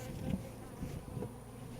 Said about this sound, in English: About 5 bees came out of it.